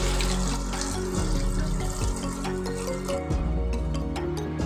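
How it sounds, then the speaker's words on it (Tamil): Water pours steadily into a pot of washed lentils, with tomatoes already added, while cooking a Tamil coriander curry; a continuous near splashing fill with drips, no talk. "இப்போ இந்த பருப்பு வேகிறதுக்கு தண்ணி ஊற்றிக்கலாங்க."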